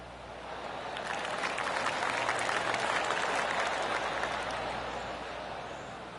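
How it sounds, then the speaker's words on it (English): Polite golf claps spread around a PGA course, a steady wash of distant applause that swells to a peak mid-clip and slowly tapers off. "Oh, I can hear the golf claps around the course."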